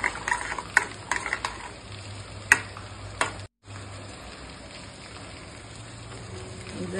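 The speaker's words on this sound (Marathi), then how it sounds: "अशा पद्धतीने याला छान मिक्स करून घ्यायचं" Instant lemon pickle with jaggery and salt being stirred in a pan: scraping, gritty stirring strokes with light sizzling, close up, with a brief dropout midway and no speech.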